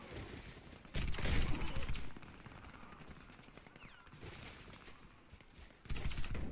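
Rapid bursts from a Calico M951S fully automatic sniper rifle in the Warface video game, loud and close, with two dense bursts separated by a stretch of softer ongoing battle noise.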